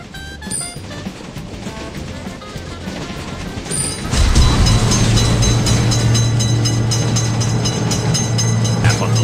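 Video game train rolling into a railway crossing, quiet at first, then a loud rumble and rattle with a sustained low tone as it arrives and passes, no talk.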